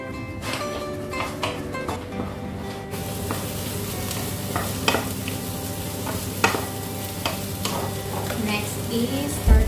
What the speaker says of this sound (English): let's start cooking this onion and other mince